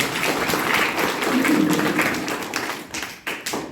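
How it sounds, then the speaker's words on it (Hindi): Enthusiastic applause from an audience at a wellness company event in Gangolihat, a dense burst of clapping that thins into scattered claps toward the end. "तो एक बार जोरदार तालियां"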